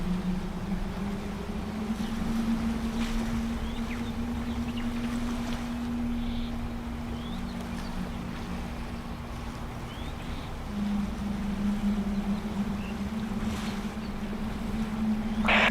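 A boat engine drones steadily on a jungle boat ride in Roblox, with a continuous low hum and soft water and wind noise throughout, fairly quiet and uninterrupted.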